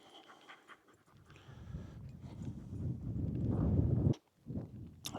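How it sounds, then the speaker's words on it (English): A dog pants close by while following someone outdoors at an Iron Age village site, a steady rough breathing that builds louder before breaking off, with footsteps mixed in. "being followed by a panting dog"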